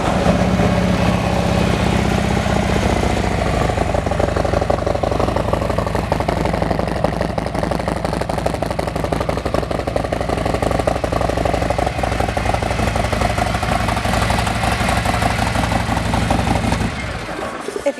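A 2018 Harley-Davidson Road Glide Special motorcycle idles with a steady, loud, rumbling engine note that holds evenly before cutting off abruptly near the end.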